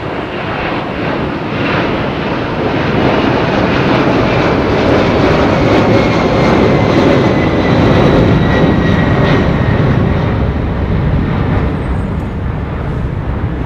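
A Boeing 767 airliner with Pratt & Whitney engines passes close by at London Heathrow Airport, a loud steady broadband jet roar that swells and holds throughout before easing slightly at the end.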